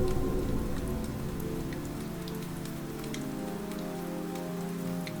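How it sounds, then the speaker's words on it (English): Steady rain patters on a car windshield, a dense even hiss of drops with a low rumble underneath, continuous and close. "Rain whispered across the DeLorean's windshield"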